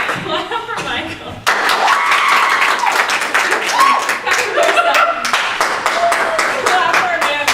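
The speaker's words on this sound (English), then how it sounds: "All right, clap for Michael." An improv comedy theater audience claps for a performer, a bright dense round of hands that swells after a short moment of chatter, with cheers and voices carrying over the clapping.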